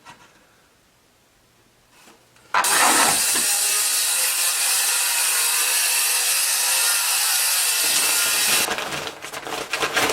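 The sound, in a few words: cutting wood with a saw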